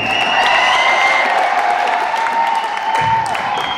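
Concert crowd at a Toronto Punjabi music show breaking into steady, dense applause, loud and continuous throughout with a faint crowd murmur mixed in.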